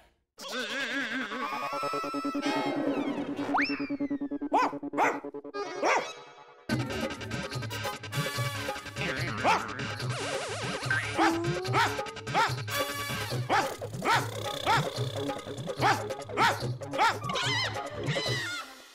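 A dog barks in a lively household scene from the sitcom Taarak Mehta Ka Ooltah Chashmah, with repeated yips and bow-wows mixed among busy talk, music and clatter after a brief quieter opening.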